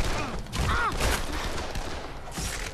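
Gunfire in the zombie video game Dead Island during a co-op session, a dense burst of shots layered over a busy game soundscape with no speech.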